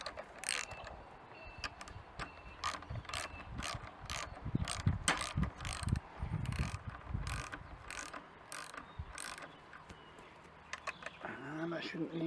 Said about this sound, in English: So we wind it down, compress the spring until we can access the nut just underneath the top there.